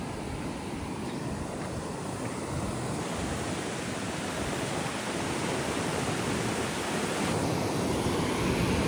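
A full river rushes strongly past a farmhouse, making a steady, dense roar of moving water close by that holds constant throughout, with no voices.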